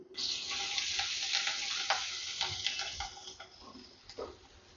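Garlic, grated ginger and torn curry leaves frying in hot oil for stuffed bitter gourd curry, a steady close sizzle with crackles and occasional stirring scrapes throughout, no voices.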